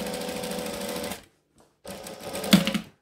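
A sewing machine stitches an apron, running in a steady close whir, stopping briefly, then starting again with a sharp snap near the end.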